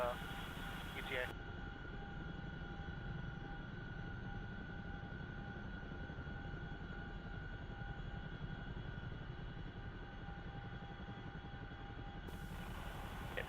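Steady rotor and turbine drone of a Chinook helicopter in DCS World during a CSAR mission, a continuous cabin hum with tonal whine, with voices talking over it.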